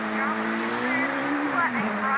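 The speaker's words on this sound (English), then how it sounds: "Love the sound of that car in full flight. Maximum revs as they launch away from the start line." A Mazda rally car at a Rally Australia stage start holds a loud, strained engine drone at high revs that bends slightly in pitch, with a possible voice mixed in beneath it.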